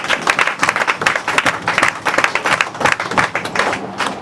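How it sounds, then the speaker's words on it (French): Church congregation applauding after a scripture reading, dense rhythmic clapping from many hands filling the room, loud and sustained throughout with no talk over it. "Acclamons pour la parole du Seigneur."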